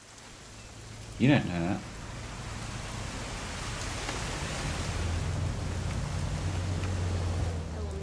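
Steady game rain in What Remains of Edith Finch, a soft broadband hiss that swells slightly over the clip, with a brief spoken line near the start and a low engine-like drone underneath.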